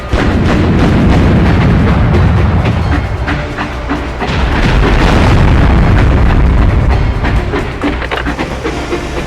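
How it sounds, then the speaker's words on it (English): Howitzer fire in the PS2 video game Swashbucklers, a loud, dense rumble of booming blasts and heavy low crashes that fills the whole stretch without pause. "Missed with my howitzer"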